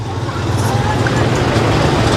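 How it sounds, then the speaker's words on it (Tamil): Steady, loud road traffic on a hill-country route near Munnar, Kerala, a continuous low rumble of cars and buses with no clear breaks, heard from close by with faint voices mixed in. "எவ்வளோ டிராஃபிக்னு பாருங்க."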